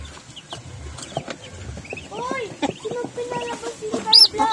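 Chickens cluck repeatedly nearby, with short choppy calls building in loudness toward the end, over a faint background of other birds.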